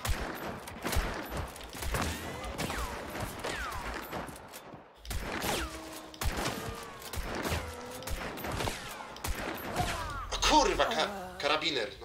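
Gunfire in Hunt: Showdown, a string of sharp, loud shots spread across the stretch, some close and cracking, with a burst of heavier noise near the end, while players talk over the shooting.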